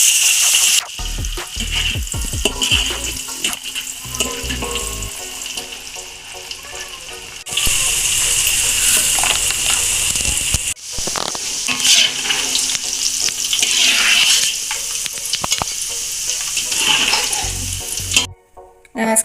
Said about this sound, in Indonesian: Kita goreng petainya sebentar aja Bunda.